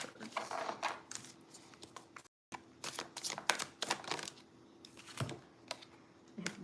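A deck of tarot and oracle cards being shuffled by hand, with rapid, close, crisp riffling and slapping bursts, a brief gap partway through, and then more shuffling. Soft and intimate, with no talking.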